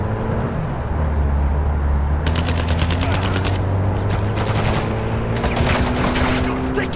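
Rapid bursts of gunfire rattle through a video game battle from a vehicle, automatic volleys repeating over a steady low engine drone, loud and close with brief gaps between strings of shots.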